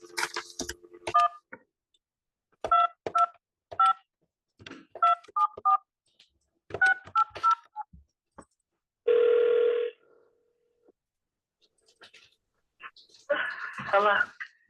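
A landline telephone number is dialed as a series of distinct DTMF keypad tones, several in quick succession, followed by a burst of dial-tone-like sound, with people talking in between and a voice heard near the end.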